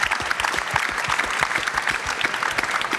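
Audience at a Ukraine recovery conference panel on EU reforms applauds the speakers, a dense, steady wash of clapping from many hands, loud and sustained throughout with no voices over it.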